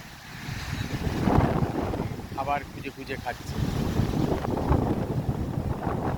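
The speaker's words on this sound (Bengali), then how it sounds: "প্রচণ্ড হাওয়া দাঁড়ানো যাচ্ছে না ছবি নেওয়া যাচ্ছে না এত হাওয়া" Strong wind gusting across the Lake Michigan shore, a loud continuous buffeting roar on the microphone, with a person speaking briefly partway through.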